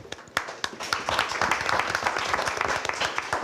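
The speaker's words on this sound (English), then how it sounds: "We might want to save the applause to the end" Scattered hand claps from a small group at a certificate ceremony, a few sharp early claps building into sustained applause across the whole moment.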